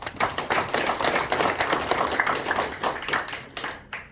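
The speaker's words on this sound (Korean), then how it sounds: "큰 박수를 부탁드리겠습니다" A crowd in a hotel convention room claps steadily throughout, a dense patter of many hands applauding together without pause.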